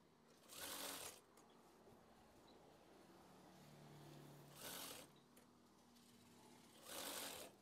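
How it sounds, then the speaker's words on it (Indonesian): A sewing machine slowly sewing lace trim onto a curtain, running in three short bursts of whirring separated by quiet pauses, fairly faint overall. "Jahit dari awal hingga akhir untuk memasang renda aksesoris gorden."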